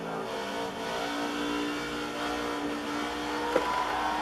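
Race car engine in a racing video game, a steady loud drone that rises slightly in pitch as it accelerates around the lap, heard alone without talk.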